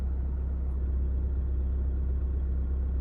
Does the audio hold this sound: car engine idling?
yes